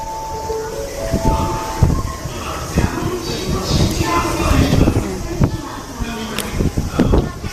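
Inside a moving train in Odaiba, Japan, a steady rumble of the carriage runs throughout, with rattles and clicks from the wheels on the track and voices talking in the background.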